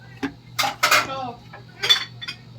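Pots, pans and cutlery clatter and clink in a home kitchen during a search for a lid, in several short bursts close by, with a steady low hum underneath.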